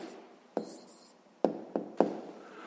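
A pen writes an answer to a sixth-grade maths exercise, giving a few short sharp taps and scratches close by, spaced irregularly over a quiet background.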